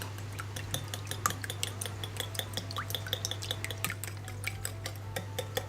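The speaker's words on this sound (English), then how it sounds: "I'm just gonna whisk this up" A whisk beating red food colouring in a bowl for red velvet cookie dough: rapid, regular metallic taps and scrapes against the bowl, close and unaccompanied, over a low steady hum.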